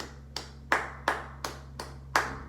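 Hand clapping game with one's own hands clapped, then a partner's: six crisp, evenly spaced claps, close and alternating slightly in strength, over a faint steady hum.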